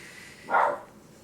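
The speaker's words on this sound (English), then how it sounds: "my dog doesn't normally bark" A dog gives a single short bark indoors, fairly close, in a quiet room with nobody talking.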